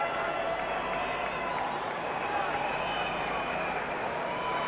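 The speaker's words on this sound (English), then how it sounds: "Well, the crowd are jubilant." A large cricket crowd at a West Indies versus Australia Test match roaring after a wicket falls, a broad sustained wash of cheers and clapping, far-off and steady for several seconds.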